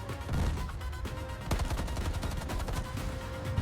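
Tank gunfire from American Sherman tanks in a night battle against Japanese armor on Saipan in 1944, a dense rapid barrage of repeated loud shots and bursts with a heavier blast near the middle, continuous and close.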